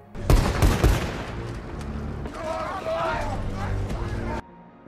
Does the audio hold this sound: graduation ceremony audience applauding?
no